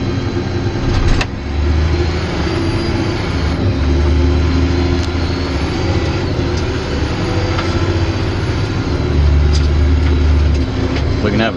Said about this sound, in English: We can have a drag race.